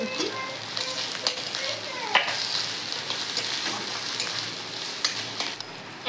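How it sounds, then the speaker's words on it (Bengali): Onion, ginger, garlic and chopped tomato sizzle steadily in a pan for a crab curry, with a continuous bright fry and scattered sharp pops and stirring scrapes, close and fairly loud, no talk. "পেঁয়াজ আদা রসুন খুব ভালো করে লাল লাল করে ভেজে নিচ্ছি"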